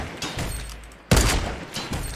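Gunfire in the video game Fortnite: one sharp, loud shot stands out over a fainter background of game noise and a few quieter pops.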